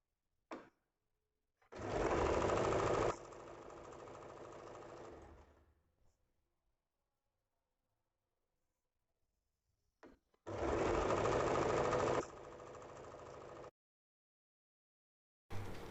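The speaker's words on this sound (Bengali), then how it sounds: "সেলাইটা আমি করে নেব।" Electric sewing machine stitching a cotton nightie, two steady bursts of fast, close whirring, each shifting to a lighter pace before stopping, separated by a long quiet gap.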